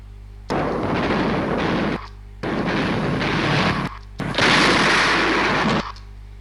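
Artillery shells fired in a video game, three long loud roaring bursts of rapid gunfire and blasts, each lasting over a second, separated by short gaps with a low background hum.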